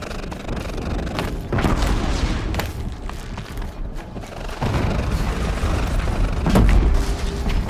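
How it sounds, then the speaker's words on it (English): Explosions in the Horizon Zero Dawn video game at Maker's End, amid combat with corrupted machines: a dense, loud rumble of repeated booms and blasts layered over continuous game noise, with a heavier burst near the end. "Explosion."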